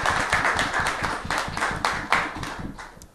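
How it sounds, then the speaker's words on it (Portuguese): Applause for the mediator at a literary evening, a fairly small audience clapping in uneven bursts that fade out toward the end. "eu pediria até uma salva de palmas para o nosso mediador também"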